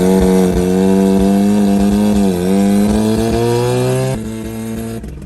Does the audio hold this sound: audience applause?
no